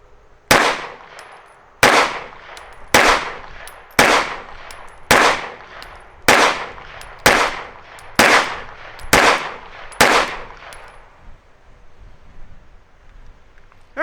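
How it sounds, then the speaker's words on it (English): Pistol fires a ten-shot group at a paper target outdoors, sharp loud reports about one second apart, each with a short ringing decay, then quiet with light wind. "Let's shoot a 10-shot group at the top left target."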